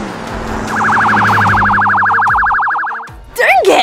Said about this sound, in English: there's a police car behind us